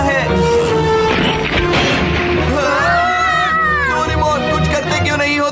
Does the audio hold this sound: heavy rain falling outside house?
no